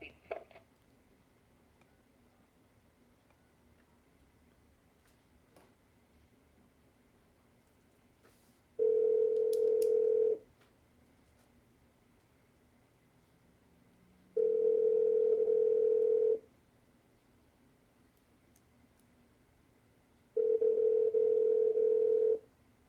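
Telephone ringback tone while calling someone, three long steady beeps evenly spaced several seconds apart with quiet gaps between, clear and alone.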